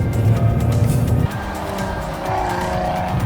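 A Maserati Ghibli S GranSport in sport mode gives a loud, close engine roar that drops in pitch partway through, then climbs again, steady and alone without talk.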